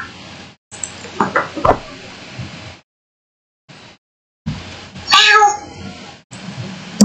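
A cat meows in a few short, close cries mixed with soft knocks, broken up by silent gaps, with a person talking around them.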